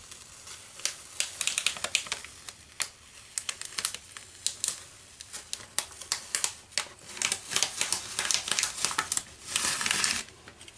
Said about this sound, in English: we're going to go ahead and peel off this contact paper and see what happened